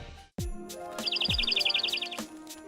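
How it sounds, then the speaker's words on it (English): A small bird chirps at a window, giving a quick run of bright, repeated chirps up close, with a few short sliding sounds and knocks around it. "There's an unexpected guest knocking on the window. Come in, little bird."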